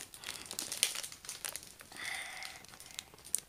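A plastic bag of diamond-painting drills crinkles close up during an unboxing, with irregular crackles and rustles in short bursts and no voice heard.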